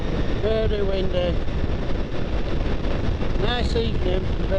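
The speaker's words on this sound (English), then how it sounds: "Nice evening, very windy." Steady, loud wind buffeting the microphone during a ride on a Honda VFR800Fi motorcycle on a windy evening, with a low roar throughout and a person speaking over it in two short bursts.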